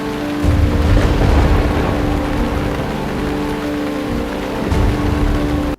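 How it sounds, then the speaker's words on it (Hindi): Rain begins in a scene of the Pakistani TV drama Tere Bin, a steady, loud hiss of falling water with a low rumbling undertone and a faint sustained musical hum beneath, continuing evenly throughout. "अरे ओह बारिश भी क्या टाइम पे स्टार्ट हुआ"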